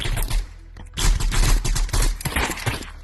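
Rapid Desert Eagle pistol shots fire in the Animal Rivals video game, loud, close bursts in quick succession with short gaps across the whole span, no voices over them.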